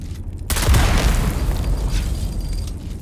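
A mine aboard a ship in the video game Dune Awakening blows up after being shot, a sudden loud booming blast that rumbles and slowly fades over a few seconds, with no talking.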